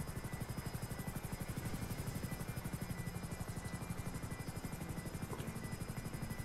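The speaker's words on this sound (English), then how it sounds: "Dude, that was the helicopter." A helicopter in the video game GTA gives a steady, rapid rotor chop that pulses evenly throughout, a continuous buzzing thrum at moderate level with no voices over it.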